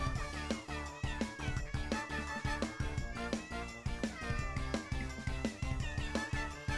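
A cartoon cat in Super Linguine Cat Simulator Deluxe Online meows repeatedly in quick succession over steady, busy game music, with no talking.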